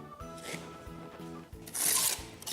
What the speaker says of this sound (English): we'll start cutting the mortar off of them